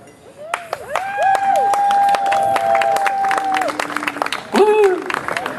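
Alumni audience at an awards evening clapping and cheering, with whoops and raised voices over scattered applause, loud and lively, rising again near the end.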